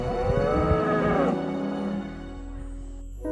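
Cows mooing on a farm in Galicia, Spain: a loud, close, drawn-out low moo that fades, then quieter lowing in the background.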